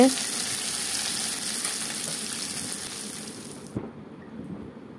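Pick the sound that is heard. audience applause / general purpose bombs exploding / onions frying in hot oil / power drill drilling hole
onions frying in hot oil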